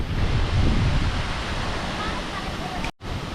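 Phe Phe waterfall in Meghalaya roars as a steady, dense wash of falling water close by, with a brief dropout near the end.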